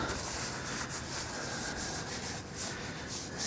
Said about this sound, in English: get some of this off the hands so they're not so slippery